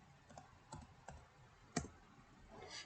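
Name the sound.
typing a command on a computer keyboard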